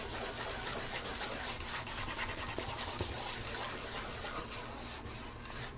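A bare hand rubs and wipes across a whiteboard in place of a dry eraser, a steady close scratchy friction that runs continuously with small irregular strokes and no talking.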